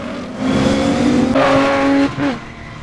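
Rallycross race cars at Dreux roar past on the track, loud engines revving up and shifting through gears with rising whines, a brief lift-off and then another burst of acceleration.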